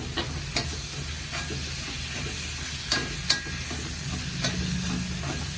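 Onions and tomatoes for a squid masala fry in oil with a constant close sizzle, broken by a few quick spatula scrapes and taps against the pan, and no voices.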